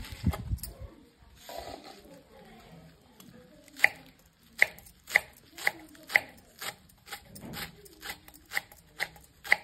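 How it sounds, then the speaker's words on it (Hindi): Knife finely chopping green amaranth leaves on a board, crisp rapid taps in an even rhythm, close and clear with little else around. "आपली भाजी आपण छान अशी बारीक चिरून घेणार आहोत"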